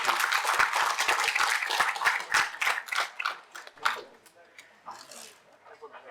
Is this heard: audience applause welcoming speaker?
yes